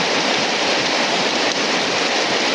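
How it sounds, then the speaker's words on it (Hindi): Heavy rain pours down steadily during unpredictable weather in a village, a dense, loud, continuous hiss with no breaks, no voices over it. "बारिश बारिश, ज़ोर ज़ोर से बारिश।"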